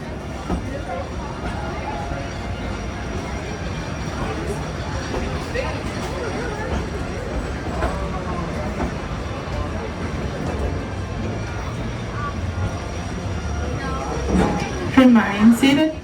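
A scenic railway train rumbles along with a steady rolling clatter, while voices murmur throughout and a louder squeal rises near the end.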